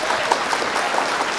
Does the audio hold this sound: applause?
yes